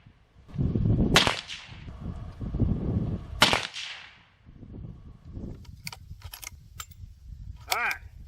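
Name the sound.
gunshot from a .350 Legend Winchester rifle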